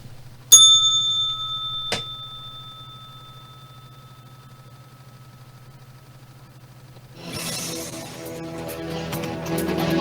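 A trading-session bell at the close of a daily E-mini futures broadcast: one loud metallic ring with a long fading tail, a second quick strike, then a low hum before noisy rustling sounds take over.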